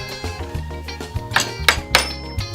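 A chisel striking metal to chop out a ring, sounding as three sharp, ringing metallic blows in close succession over a tonal background hum.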